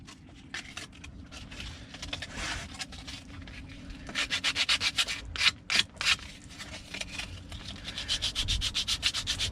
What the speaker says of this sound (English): just sanding the corners off now, just trying to make it look a bit more neat